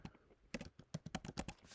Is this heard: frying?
no